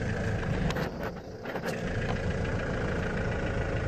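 A 50 cc EGL quad bike started from a battery fires up and settles into a steady idle, its engine note continuous and fairly close with no talk over it.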